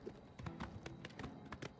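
Horse hooves clip-clop in steady rhythm in the video game Oblivion Remastered, a run of sharp close hoofbeats roughly twice a second over a low ambient game bed.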